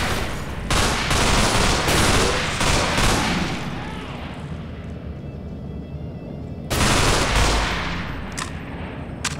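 Heavy gunfire in the video game Underhell, loud continuous bursts of automatic shots and booms that ease off in the middle before a fresh volley erupts.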